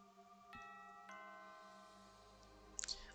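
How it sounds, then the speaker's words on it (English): A two-tone doorbell chime rings out, its tones lingering and overlapping, followed by a brief higher chirp near the end; no voices. "The doorbell?"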